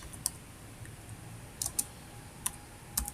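Scattered computer keyboard key clicks, a handful of quick taps in small bursts against a quiet background, close and fairly faint.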